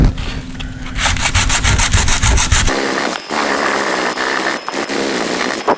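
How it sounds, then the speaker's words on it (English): Coarse 60 or 80 grit sandpaper scrubs a dented metal door down to bare metal, a loud, close, rhythmic rasp of back-and-forth strokes that turns into a steadier grinding hiss, with no talk. "you sand it down until you get it to the metal"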